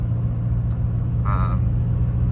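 A truck engine hauls up a steep hill, a steady low droning rumble throughout with a brief higher whine partway through.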